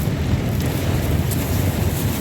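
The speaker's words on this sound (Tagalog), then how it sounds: "Ang lakas ng buhos ng ulan" A heavy rain downpour roars as a dense, steady wash of noise, loud and close, with no pauses.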